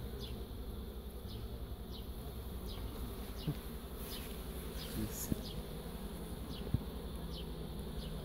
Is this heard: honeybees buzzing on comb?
yes